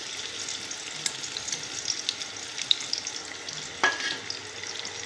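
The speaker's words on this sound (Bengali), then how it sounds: "আলহামদুলিল্লাহ, আমার তৈল গরম হয়ে গিয়েছে। এখন পেঁয়াজ কুচি দিয়ে দিব।" Chopped onion fries in hot oil, making a steady, moderately loud hiss and crackle close by, with a brief sharp clink partway through.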